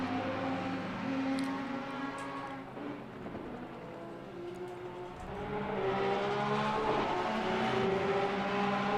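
Lamborghini and Porsche race cars in the ACC racing video game on PS4, their engines droning steadily with shifting harmonic tones. The sound runs continuously and fairly faint throughout.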